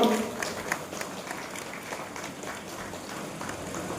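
Applause breaks out from the crowd at a Rakhi Bandhan harmony ceremony in Memari, a steady, moderately distant clatter of many hands that lasts throughout, with some voices mixed in at the start.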